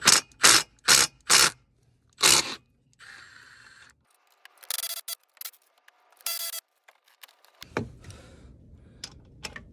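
A Milwaukee power tool works 10 mm long bolts loose on a 7.3 Powerstroke diesel engine, giving several sharp, loud rattling bursts, then a few scattered clicks and thin mechanical noises.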